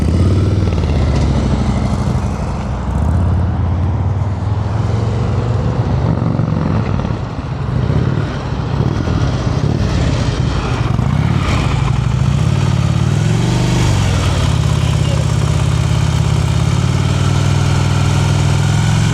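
Motorcycle engine idling and pulling at low revs through slow-speed riding practice in Florida, a steady close rumble running throughout with small throttle swells and clutch-controlled surges.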